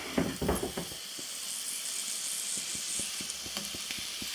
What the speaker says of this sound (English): As that starts to sizzle.